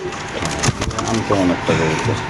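Pigeons kept in cages at a market coo in low, rolling bursts, mixed with nearby people talking over a busy background.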